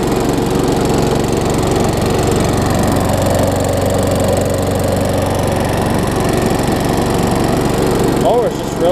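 A Craftsman self-propelled lawn mower with a Tecumseh engine runs at a steady, loud drone from start to finish, holding an even speed with no pauses.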